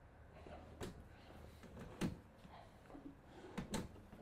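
Small drawers in an RV kitchen on a Coachmen Sports Coach 404 slide and bump shut, giving several quiet wooden knocks and sliding scrapes spread across a few seconds in a quiet room.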